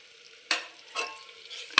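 Red chilli powder and onion-garlic masala stirred into hot oil in a pan while cooking Maharashtrian ghevda rice, three short scraping sizzles of a spoon against the pan over a faint steady fry, close by.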